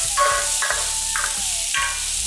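Garlic and slit green chillies sauté in a pan for a Kerala chicken curry, a loud steady sizzle with rhythmic stirring pulses and a tonal background beneath.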